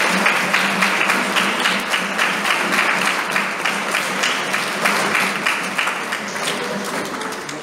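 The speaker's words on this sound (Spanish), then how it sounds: "Vamos a darles un fuerte aplauso, por favor." Loud, sustained applause from a large crowd at a quinceañera celebration, steady dense clapping filling the room throughout with no break.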